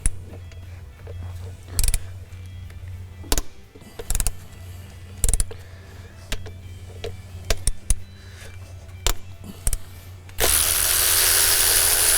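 Ratchet loosening three 13 mm bolts from a Cummins VP44 injection pump, scattered sharp clicks and clunks over a low hum, close by, ending in a steady rushing noise.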